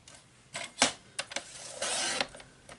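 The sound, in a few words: paper trimmer cutting card stock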